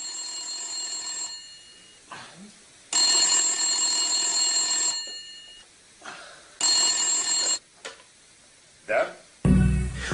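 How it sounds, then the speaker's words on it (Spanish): A telephone rings in a modest apartment, sounding in distinct bursts separated by pauses, fairly clear and close, with a short thump near the end. "suena el teléfono en el humilde apartamento de Igor Kostin"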